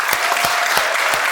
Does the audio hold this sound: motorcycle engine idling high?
no